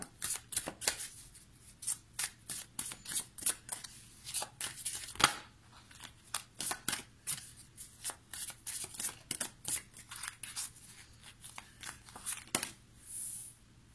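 Tarot cards are shuffled and handled close up in a quiet room, giving a rapid series of sharp papery riffles and slaps in irregular bursts, with short pauses between them and no talk.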